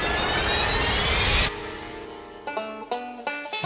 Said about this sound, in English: Here comes that water, each jet firing a 1-litre salvo.